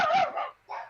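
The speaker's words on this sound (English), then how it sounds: "Apologies for the dogs barking." Dogs barking in a home, a couple of loud close barks and yips in quick succession, a short pause, then another bark, with no talk over them.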